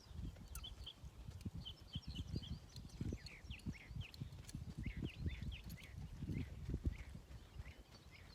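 Hoofbeats of a mare being ridden at a slow gait, a steady rhythm of soft thuds with birds chirping in the background, fairly quiet.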